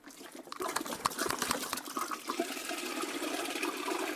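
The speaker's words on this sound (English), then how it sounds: "So turn it over and then spin it around enough to create a vortex." Water from an upturned 2-liter bottle swirling out through a spun vortex, a continuous gurgling, splashing rush that starts after a brief quiet moment and stays steady and close for the rest.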